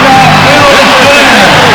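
Arena crowd at a 1977 Washington Bullets versus Houston Rockets playoff game 3 in Landover, Maryland, a dense steady roar of cheering with a faint whoop, loud and continuous throughout.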